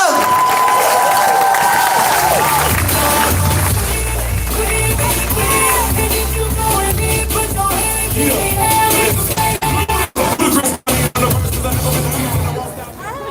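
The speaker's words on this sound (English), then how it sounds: "let's give her a round of applause and show her some love" A large crowd at a Denver solidarity march rally applauds and cheers for someone speaker, a loud, dense and sustained roar with whoops and clapping that fades near the end.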